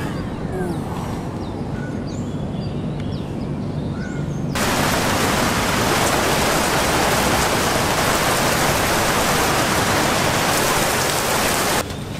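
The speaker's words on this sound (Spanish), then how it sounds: "Comenzó a llover" Steady rain falling in a park near the Petronas Towers in Malaysia, a dense hiss that grows suddenly heavier partway through and stays loud and continuous, with no talking.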